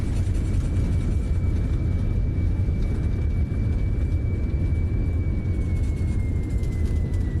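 Airliner rolling out after landing in Microsoft Flight Simulator with reverse thrust: a loud, constant low engine roar and rumble carrying a faint steady whine, unbroken from start to finish.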